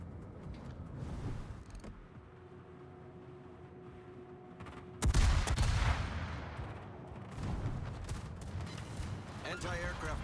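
Rapid anti-aircraft gunfire from a Myoko-class heavy cruiser in World of Warships rattles in bursts with a sharp onset midway, moderately quiet, under voices and game announcements.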